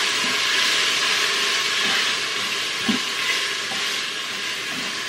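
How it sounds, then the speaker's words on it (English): Steady hissing sizzle of frozen peas hitting a very hot Instant Pot, continuous and fairly loud, with faint stirring clicks and no voices. "I'm going to add these frozen peas. Yep, my instant pot is very hot."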